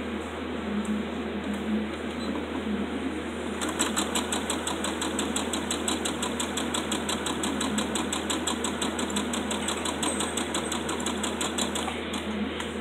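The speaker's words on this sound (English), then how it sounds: "you're just going to take one side and you're just going to sew it." A sewing machine runs steadily, stitching a folded fabric bunting triangle, its rapid even needle rhythm close and continuous after a softer start, with no talking.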